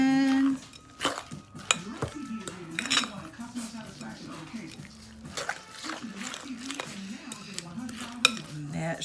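A spoon clinks and scrapes against a bowl while muffin batter is mixed, with irregular knocks and stirring under a voice speaking intermittently.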